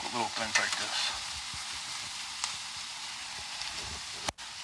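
Potatoes fry in a cast iron skillet with a soft, continuous sizzle and occasional stirring scrapes, quiet and close, with no talk.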